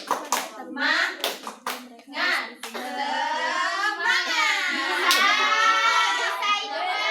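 Children in a classroom perform a rhythmic group clap, sharp hand claps in a counted pattern mixed with lively kids' voices chanting and shouting together.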